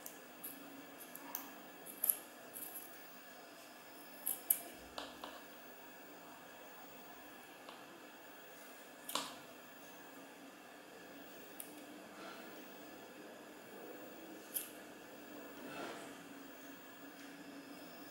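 Scissors snipping through yarn while trimming a handmade pom pom, a few quiet, close, scattered cuts separated by pauses in a still room.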